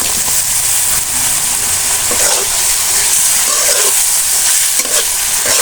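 Fresh shing fish dropped into hot spiced oil, giving a loud, continuous sizzle and frying hiss with light stirring scrapes throughout.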